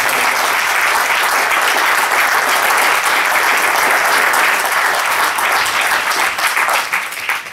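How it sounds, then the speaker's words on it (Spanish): A room full of people at a book presentation gives a loud, sustained ovation, dense clapping that holds steady throughout and only begins to taper in the final moments. "la siguiente ovación se la debemos a él"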